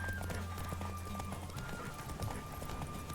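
A horse in the Witcher 3 video game gallops in a steady, rhythmic clip-clop at moderate volume, with faint ambient game music underneath.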